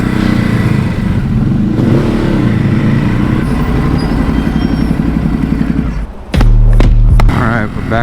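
A Ducati Hypermotard motorcycle rides along a road, its loud, steady engine drone and wind rumble continuous, dipping briefly near the end before a sharp, heavy rev surges back in.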